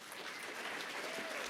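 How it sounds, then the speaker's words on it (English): Faint, distant applause from an audience at the We Are Wearables Toronto event honoring a speaker named Diane, an even patter of many hands with no voices over it. "Big round of applause for Diane, everyone."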